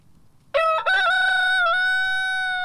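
A single rooster crows loudly and close by among farm livestock, one long sustained call that breaks in sharply and holds to the end over faint background noise.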